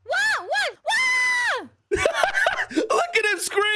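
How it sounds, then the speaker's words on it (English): Screams from mobs in the Minecraft game, several long wavering cries with rising and falling pitch, loud and close, followed by a noisy stretch of yelling and chatter from players. "Look at him screaming, bro."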